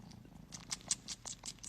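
Cat purring close to the listener: a soft, continuous rhythmic rumble with faint breathy pulses, low in level and alone without talk.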